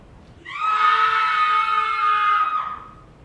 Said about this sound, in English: It was a cry of a woman